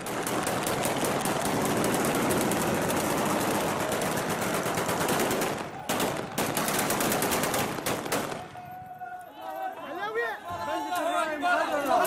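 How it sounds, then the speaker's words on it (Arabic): Celebratory gunfire shot into the air by fighters marking a town's capture, rapid dense bursts of automatic fire crackling for several seconds amid crowd chatter, then stopping as voices and shouting take over. "يطلقون الرصاص في الهواء احتفالا"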